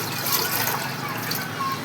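Jaggery dissolved in water is poured in a steady, close pour with a soft continuous trickle and splash, lasting under two seconds with no talking.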